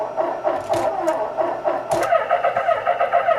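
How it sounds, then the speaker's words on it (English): An ALL-SUN EM135 digital automotive meter plays a simulated engine cranking sound, a rapid rhythmic churning whirr of a starter turning an engine over, fairly loud and continuous with no voices. "that's what the engine would sound like when it's starting"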